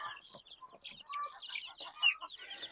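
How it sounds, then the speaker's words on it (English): Baby chicks peep in high, rapid chirps as they are set into a brooder, a busy overlapping chorus of thin calls close by. "you can go ahead and get your chicks and carefully place them in your brooder"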